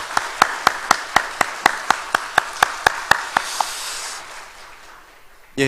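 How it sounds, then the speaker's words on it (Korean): Members of a Korean church congregation at Sunday worship clap in unison to welcome their senior pastor back from sabbatical, about fifteen sharp, evenly spaced claps that stop, leaving quiet room tone. "우리 목사님 박수로 우리 환영해 드리십시다"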